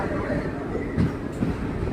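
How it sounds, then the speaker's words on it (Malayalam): A Rameswaram passenger train pulls out of Ramanathapuram railway station, giving a steady close rolling rumble with a couple of faint knocks from the cars. "രാമനാഥപുരം റെയിൽവേ സ്റ്റേഷനിൽ നിന്ന് ഇതാ വീണ്ടും പുറപ്പെട്ടിരിക്കുകയാണ്"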